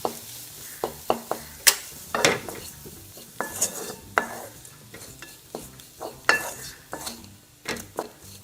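Dried sprats (halmasso) being stirred in a pan with lime juice, with a steady sizzle of frying under repeated sharp clinks and scrapes of a spoon against the pan, close and fairly loud.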